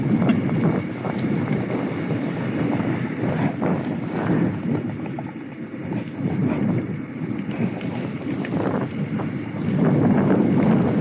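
Gusty wind rumbles and buffets the microphone during a bicycle ride, a steady, low roar that swells and eases throughout, with no voices.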